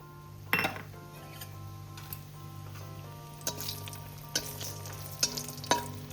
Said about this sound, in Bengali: এবার ওই তেলের মধ্যে আমি বড়িগুলোকে ভেজে তুলে নেব